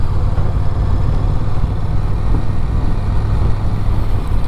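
A Honda Rebel 1100 cruiser motorcycle engine with stock Euro 5 exhaust rumbles steadily and loudly, a constant low throbbing exhaust note with no breaks.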